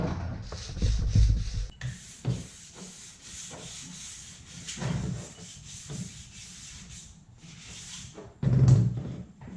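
Wet 320-grit sandpaper rubs against a Honda CRX Si taillight lens in repeated rough scrubbing strokes, close and fairly loud, with a few heavier passes.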